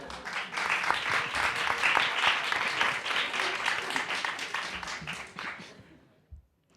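Live audience at a podcast event bursts into lively applause and clapping, a dense roomful of hands that builds quickly, holds, then dies away into quiet with a last few claps.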